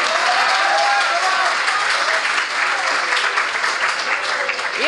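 Dense, loud applause from a school audience marking an Erasmus programme anniversary, steady clapping throughout with a few voices and cheers mixed in.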